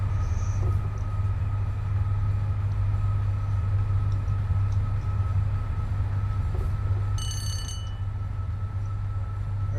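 A Class 86 electric locomotive in Train Simulator rolls along with a loud, steady, deep rumble and whine that carries throughout, plus a brief high chirping signal near the end.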